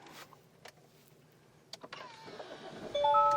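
A few clicks and a whirring crank, then the diesel engine of a 2016 Audi A6 with 260,000 km catches and settles into a steady low rumble, close and moderately loud.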